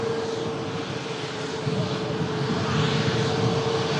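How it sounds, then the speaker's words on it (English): A Ryanair airliner vacating the runway, heard as a steady, fairly loud engine roar with a low hum that swells slightly toward the end, with no voices. "Ryanair just vacating."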